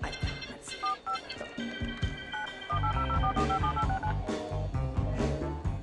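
Keypad tones of a telephone number being dialed on a mobile phone, a quick run of short beeps of varying pitch with music playing underneath.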